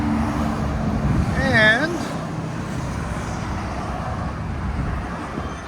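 Chevy Silverado SS pickup with a 6.0L V8, Flow FX true dual exhaust and a high-flow single cat, giving a low, steady rumble amid passing road traffic, with a brief warbling tone and voices talking.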